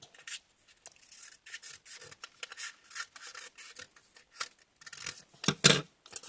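Scissors snip through paper for a paper helicopter in short close strokes and rustles, with a louder sharp cut near the end.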